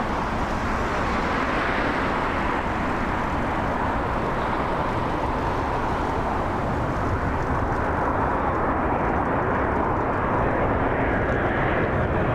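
A WestJet Encore Dash 8 airliner lands at Toronto Pearson with a steady, broad engine roar. The sound holds at a moderate level for the whole stretch, with no talk.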